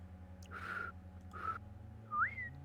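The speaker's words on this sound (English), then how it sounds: "I was trying to whistle." Someone attempting to whistle, producing two faint breathy whistle tones and then a brief rising pitched note, quiet and close, with no speech.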